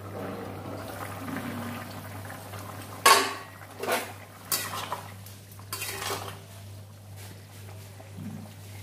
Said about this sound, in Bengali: এবার আমি ঢাকা দিয়ে দেব।